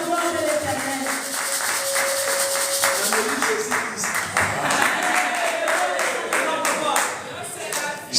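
A church congregation claps and applauds in praise of God, a dense steady wash of many hands close by, with voices singing and calling out over it throughout.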